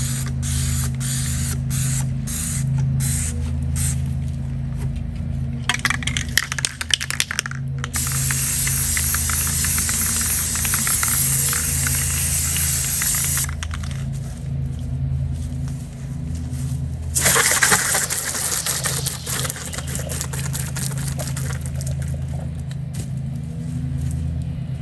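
A pressure washer sprays a spray-painted turtle tray: a steady hissing spray of water runs in long bursts, starting and stopping, over a low mechanical hum.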